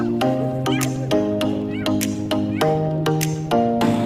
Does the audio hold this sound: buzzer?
no